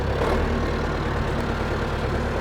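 A tractor engine runs at a steady idle, a dense low rumble close by and continuous, with no one talking.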